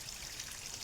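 Rain falls through a forest, a brief, steady wash of dense patter on leaves and ground, fairly soft and with no voices.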